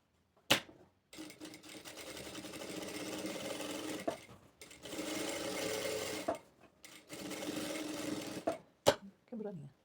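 Sewing machine topstitching an appliqué patch onto a cotton dish towel, running in three steady bursts of stitching separated by short pauses, close and clear, with brief clicks and handling noises between runs.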